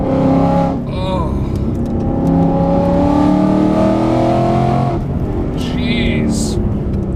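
A supercharged 2016 Ford Mustang GT pulls hard in second gear through a canyon, its loud engine note climbing steadily, with a brief dip before a second surge of revs near the end.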